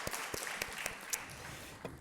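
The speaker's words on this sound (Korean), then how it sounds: "우리 수고하신 분들 박수하도록 하겠습니다." A church congregation applauds during a Sunday morning worship service, giving a short, fairly faint patter of scattered claps that stays steady for about two seconds, with no talking over it.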